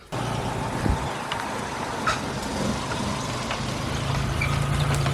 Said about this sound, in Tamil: வண்டியில் கட்டி வச்சு வண்டியை ஸ்டார்ட் பண்ணி எடுத்துகிட்டு போயிடலாம்